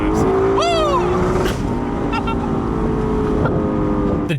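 Engine of a Toyota GR86 sports car revs hard and loud near the start, its pitch sweeping up, then settles into a steady drone that continues to the end.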